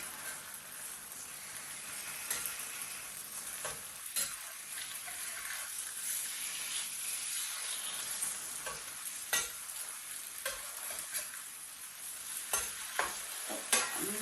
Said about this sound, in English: now it's just going to fry a little bit in the remaining oil in the pan, and we'll get a nice browning on each slice.